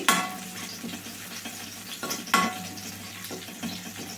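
Food frying hard in a pan over a high flame for Gobi Manchurian, a steady close sizzle broken by repeated scraping stirs and a couple of louder knocks of a spoon against the metal.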